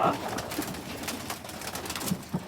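A long-distance racing pigeon hen coos at close range, with a few short throaty notes standing out over loud, busy background noise and no clear talk.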